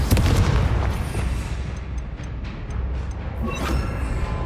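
Spell blasts from Hogwarts Legacy combat hit as loud, dense booming explosions, one heavy burst at the start and another near the end, with crackling debris in between and no talk.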